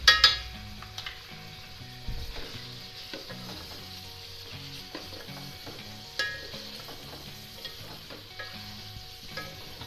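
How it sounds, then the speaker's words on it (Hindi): Chicken pieces fry with ginger and garlic paste in a pan, a constant close sizzle under intermittent scraping and clinking as a utensil stirs against the metal, with no talking. "इसको ज़रा फ्राई करते हैं थोड़ी सी"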